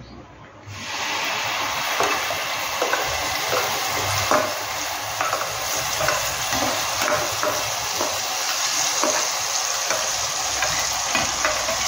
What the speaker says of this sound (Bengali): তেলটা একটু গরম হলে এতে পেঁয়াজ বাটা দেব